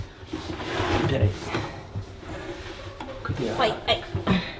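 A kitchen drawer on telescopic ball-bearing slides is worked while being fitted to a planned cabinet, giving several scraping, rolling slides and knocks at close range, mixed with people talking.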